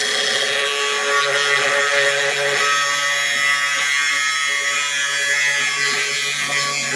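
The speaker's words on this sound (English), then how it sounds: "Very quick work of cutting through that 1/4 inch steel." A FLEX thin cutting wheel on a grinder slices through 1/4 inch steel, a loud sustained high whine with a steady harmonic tone and no talking.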